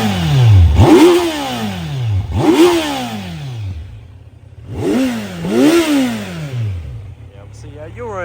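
A 2025 Kawasaki Z900 motorcycle engine fires up and revs in several sharp rising-and-falling blips, loud and close, settling into a steady idle between throttle bursts.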